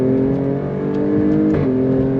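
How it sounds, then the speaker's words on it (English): A 2023 Alfa Romeo Stelvio Quadrifoglio performance SUV's exhaust drones steadily and loud under throttle, a continuous low engine note with a brief surge around the middle, no talking over it. "Love the sound out the exhaust."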